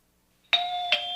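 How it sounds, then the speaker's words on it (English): A doorbell chimes after a brief silence, sounding two quick tonal strikes whose ringing tone sustains between and after them, moderately loud and alone. "Saturday morning, the doorbell rings,"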